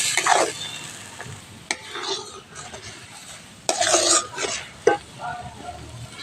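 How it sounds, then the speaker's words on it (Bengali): Potol (pointed gourd) mash with salt and turmeric being stirred in a frying pan, scraping spatula strokes in irregular bursts over a soft sizzle, close and distinct. "দিয়ে দেবো পরিমাণ মতন লবণ, দেব হলুদ, ভালো করে কষতে থাকবো।"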